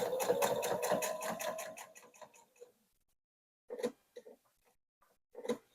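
A sewing machine stitches a mitered corner on a fabric cross-body phone tote, running in a fast steady rhythmic burst before stopping, followed by a few short separate stitch bursts close by, with no talk.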